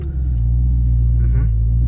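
BMW M3 E92 on the road with its engine rumbling loud and steady under a heavy low drone, with a slight shift in tone partway through as it changes gears.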